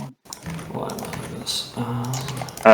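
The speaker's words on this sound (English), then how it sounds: "Shuffle and draw." A deck of cards is shuffled during a Malifaux tabletop game, with quick rattling riffles in short bursts, close by, while players talk.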